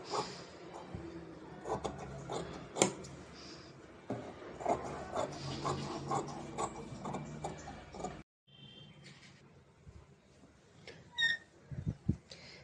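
Scissors cutting out the neckline of a blouse fabric, irregular close snips and crisp fabric rustles, with a brief pause midway and a few sharper clicks near the end.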